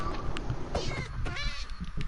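In the video game Minecraft, a cat meows repeatedly amid busy game sounds, the cries clear and fairly near within a cluttered mix.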